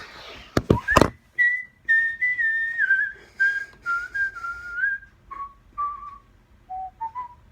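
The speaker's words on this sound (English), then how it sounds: "the whistling bit was me thinking I'd turned off the phone, laid it down" A person whistles a slow, wandering tune in an office, starting after a few sharp clicks and carrying on as a string of clear sustained notes, close and alone.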